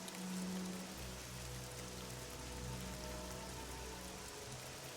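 Rain in the video game Oblivion, a soft continuous hiss of falling drops, low and steady under faint tonal game ambience, with no one talking.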